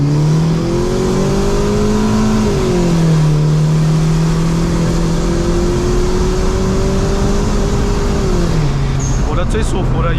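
A turbocharged 1.3-litre Perodua Kelisa with about 180 whp revs hard under throttle on a mountain run, its engine note climbing and dropping through shifts, loud and close, with a brief clatter near the end.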